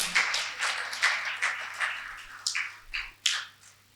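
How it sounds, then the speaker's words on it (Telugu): Loud audience applause for learners at a three-day spiritual arts and meditation workshop, a dense burst of many hands clapping together that swells and fades over a few seconds, with no talking. "గట్టిగా చప్పట్లు కొడదాం వాళ్ళందరికీ కూడా."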